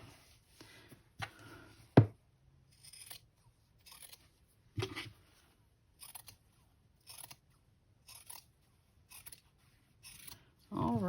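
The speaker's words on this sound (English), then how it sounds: "I have used pinking scissors on these before" Several sharp snipping cuts from heavy pinking scissors chewing through thick layers of potholder fabric, spaced irregularly with quiet pauses between them.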